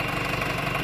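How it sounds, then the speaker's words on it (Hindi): A Sonalika 750 tractor engine running after a mechanic's rebuild, fitted with a turbo, a loud close steady rumble with a rhythmic knock and no voices. "दोस्तों ये सोनालिका 750 है"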